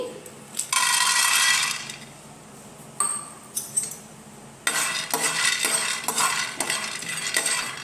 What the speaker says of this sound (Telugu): ఇప్పుడు అదే ప్యాన్లో పల్లీలు వేయించుకుందామండి